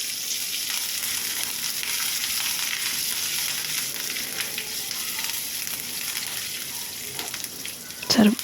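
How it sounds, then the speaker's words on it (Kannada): Mustard seeds, cumin and asafoetida crackle and sizzle in two tablespoons of hot oil in a pan, with curry leaves to follow, as a dense, even frying hiss holding steady throughout and ending in a short sharp clatter. "ಈಗ ಒಂದು ಬಾಣಲೆ ಇಟ್ಬಿಟ್ಟು ಎಣ್ಣೆ ಬಿಸಿ ಮಾಡಿ 2 ಟೇಬಲ್ ಸ್ಪೂನ್ ಎಣ್ಣೆ ಹಾಕಿ ಸಾಸಿವೆ ಮತ್ತು ಜೀರಿಗೆ, ಇಂಗು ಹಾಕಿದ್ದೀನಿ"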